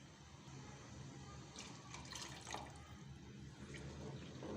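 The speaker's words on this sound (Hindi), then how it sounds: "अब मैं इसमें 2 कप पानी डालकर इसको गलने के लिए रख दूंगी।" Water poured into a pot of white lentils (daal mash) on a home stove, a soft, steady splashing pour with a few brighter trickles, fairly faint and without talk.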